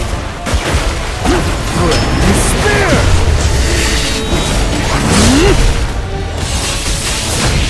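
Explosions and combat effects in the video game Solo Leveling: Arise, loud dense crashes and booms with whooshing swipes layered continuously, mixed with character voice effects.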